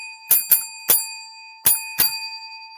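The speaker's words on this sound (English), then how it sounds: "Feels good to have my bell back up here." Five sharp, bright bell dings rung by hand during a fishing live stream, spaced irregularly over a few seconds, each ringing with a clear metallic tone that decays quickly against a steady faint electronic hum.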